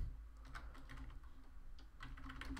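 Steady typing on a computer keyboard, close up, with quick irregular key clicks and brief pauses, and no voices.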